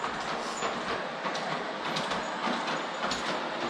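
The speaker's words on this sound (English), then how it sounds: "The train is going." A toy train circling a decorated Christmas tree runs with a steady clattering rattle and faint clicks of small wheels on track, close and continuous, with no voices.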